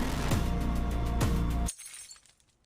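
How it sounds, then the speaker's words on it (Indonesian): An object shatters and breaks, a dense crashing burst with sharp cracks that rings on for about a second and a half, then stops abruptly and leaves faint scattered tinkling fragments settling afterward. "ada suara benda yang pecah"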